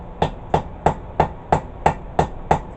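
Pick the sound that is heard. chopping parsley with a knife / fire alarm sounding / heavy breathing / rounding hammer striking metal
rounding hammer striking metal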